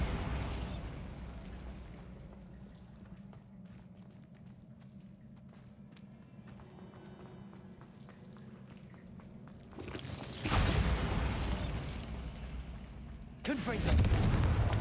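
Late in the stretch, two loud crashing blasts from the Bombarda spell in Hogwarts Legacy break a quiet, murmuring interior, the second following about three seconds after the first, with a voice heard earlier.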